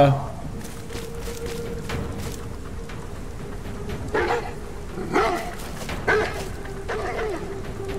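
Trained dogs barking in the Beyond Two Souls video game, several short yaps and barks scattered over a steady tonal game hum, fairly near and moderately loud.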